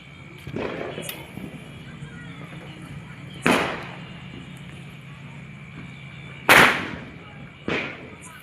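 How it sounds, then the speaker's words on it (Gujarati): Diwali firecrackers burst in a handful of sharp, separate bangs a few seconds apart, each trailing off quickly over a steady background hum. "પછી ફટાકિયા ફોડવાનું ચાલુ કરશું"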